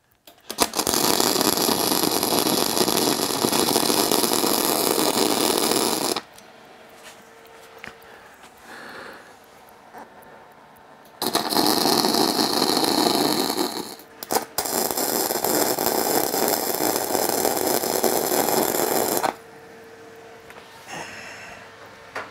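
A branding iron being welded, with two long, loud bursts of harsh crackling buzz separated by a quieter stretch of faint handling noise and a few sharp clicks.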